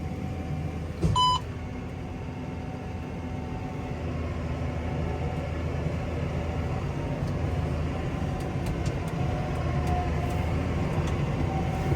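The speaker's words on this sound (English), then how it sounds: "It's going to immediately start wrapping." A Case IH baler wrapping a bale, heard as a steady loud mechanical drone and rumble from inside a tractor cab, with a short electronic beep near the start and faint ticking later, no talking.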